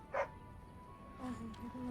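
A Mabari war dog in a fantasy video game set in Ferelden gives a short, sharp bark near the start, followed by quieter yipping sounds over a low game background.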